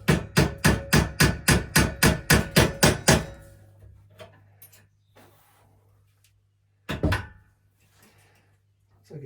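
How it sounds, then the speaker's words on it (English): About a dozen rapid, evenly spaced metal taps from a small hammer striking a screwdriver to break a seal on a shallow water pump, then a low hum with a few scattered knocks and one later louder clunk. "give me a straight edge and a little hammer. See if I can't break this seal."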